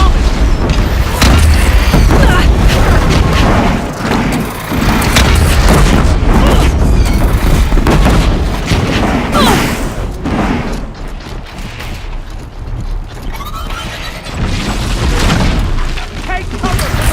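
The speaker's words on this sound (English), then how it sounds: "Look out! Deathbringer fire incoming!" A Deathbringer machine in Horizon Zero Dawn fires explosive shots, heavy booms and mechanical rumbling dense and loud throughout a battle, with voices speaking over the din.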